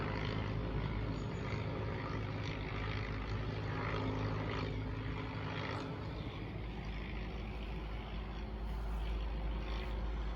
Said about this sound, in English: You see that little biplane?